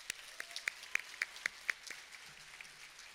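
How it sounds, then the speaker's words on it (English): Sparse clapping from a small audience at a high school commencement ceremony, a handful of distinct claps heard fairly faint and distant, thinning out within a few seconds. "Please join me in applauding those people in the audience who are here for you this evening."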